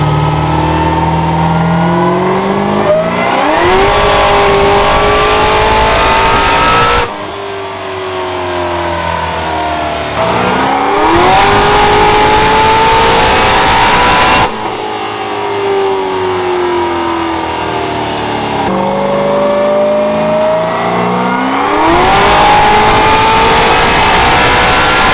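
A 900hp 1969 Camaro roars on a dyno at LS Fest East, loud and close, its engine pitch sweeping upward in repeated hard pulls with brief drops between them.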